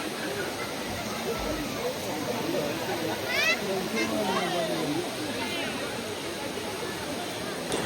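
Kumbakkarai waterfall in Theni, a steady broadband roar of falling water heard from nearby, with crowd voices chattering throughout.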